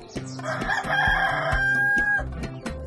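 A farm rooster surrounded by chickens gives a loud, sustained crow that rises and holds before tailing off, heard over light background music.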